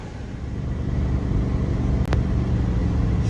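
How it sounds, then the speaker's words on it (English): Steady road rumble and tyre noise fill the cabin of an RV driving slowly in the left lane through traffic and a construction zone, a constant broadband roar with one brief click partway through. "Sharing the road with trucks, drivers, cars, motorcycles, and all."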